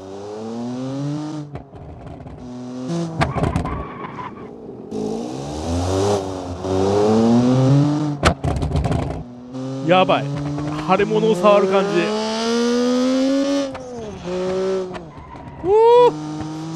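In the picar3 engine simulator game, a kei truck fitted with a powerful kei engine brakes hard on a dirt road. Revving engine tones and short tire squeals of skidding and locking wheels come through while someone talks excitedly over them.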